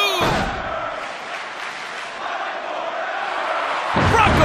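A wrestling arena crowd at a WWE Clash at the Castle match roars loudly and continuously, a dense cheer with a sharp surge at the end.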